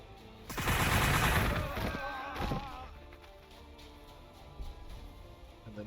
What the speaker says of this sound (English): Take a little bit of gunfire to trash you guys.